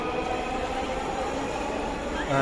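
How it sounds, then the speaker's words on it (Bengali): Metro train pulling into a station bound for Uttara, a steady loud rumbling roar with rushing noise throughout, rising slightly at the end. "উত্তরা অভিমুখী ট্রেনে আমাদের ট্রেনও চলে এসেছে"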